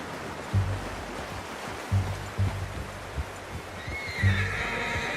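A horse in the video game Red Dead Redemption whinnies repeatedly in short nasal bursts over a steady outdoor wash, with a brighter, higher call near the end.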